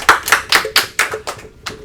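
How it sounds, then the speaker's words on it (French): Applause for a young storyteller on a French autumn-holiday Halloween broadcast: about seven distinct, evenly spaced claps, crisp and close, thinning out toward the end rather than a full crowd roar. "Eh ben merci Kali, on peut l'applaudir, bravo."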